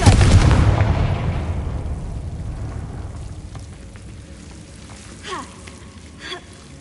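The Confringo fire spell from Hogwarts Legacy on PS5 erupts in a loud booming blast that rumbles and fades over several seconds, followed by two faint whooshing magical flickers.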